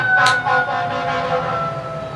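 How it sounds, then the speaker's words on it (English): Wailing emergency sirens sound steadily from a distance, their tones overlapping as they rise and fall under a constant background hum. "I'm just going to wait for the sirens to stop."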